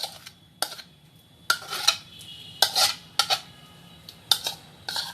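A spoon scrapes and clinks against a pan while ginger halwa with almond paste is stirred continuously over low heat, giving irregular bright metallic taps and scrapes with quiet gaps between them.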